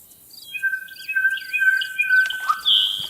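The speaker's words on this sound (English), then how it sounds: "That bird's so loud." A loud bird in the DayZ video game calls close by with a series of high whistled and chirping notes, some sliding, over near silence.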